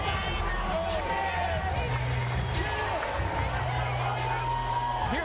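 A boxing arena crowd murmurs and cheers mildly as James Toney comes into view before his bout with Evander Holyfield, a steady distant roar with scattered whoops under a commentator's voice.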